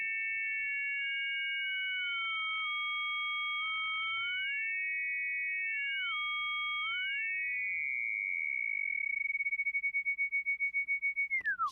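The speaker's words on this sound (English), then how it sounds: "you're going to see a sum tone getting higher and higher, and a difference tone getting lower and lower." Two pure synthesizer tones, a sum tone and a difference tone, glide apart and back together around a steady sine wave, sweeping up and down in pitch before merging into one sustained tone, with no talking.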